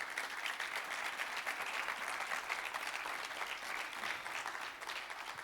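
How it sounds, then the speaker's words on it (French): Steady applause from a conference audience at the close of an entrepreneur's talk, a dense, even clapping that keeps going throughout. "On peut encore vous applaudir"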